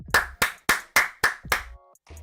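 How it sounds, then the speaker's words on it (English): A small group claps in six sharp, evenly spaced bursts, each quickly dying away, followed by a short faint tail of noise. "Round of applause."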